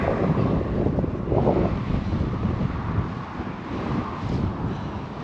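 Strong wind on the bank of the River Tweed during October salmon fishing buffets the microphone with a loud, continuous rumbling roar that gusts and eases.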